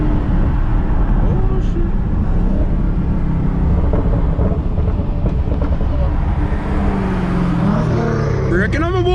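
A 730 hp Dodge Charger SRT Hellcat driven hard on a rain-soaked road gives a steady, loud roar mixed with hiss from water and tires, with voices talking over it.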